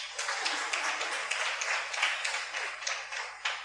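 Audience applause at a Tamil sangam gathering in Bangalore, the Prestige Bella Vista Tamil Sangam: steady, dense clapping from a crowd, filling the room evenly for the whole stretch with a few sharper claps standing out.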